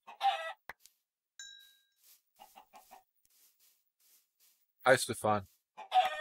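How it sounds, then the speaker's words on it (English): Chickens in modded GregTech Minecraft give a few short, nasal clucks near the end, following a soft ding and scattered quiet game sounds, with a voice speaking briefly at the start. "Hello, chicken."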